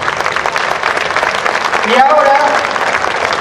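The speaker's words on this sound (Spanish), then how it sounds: "Y ya les pido un aplauso para ellos." Audience applause at a historical reenactment of Villena 1707, with the fortress siege as its theme; continuous clapping from a crowd, with a brief spoken phrase and a tonal sound partway through.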